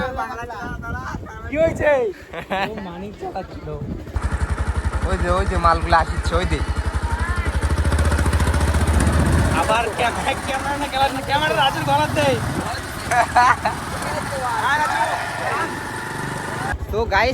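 A motorcycle carrying two riders along a village road on a rainy day, its engine droning steadily under almost continuous talk and wind.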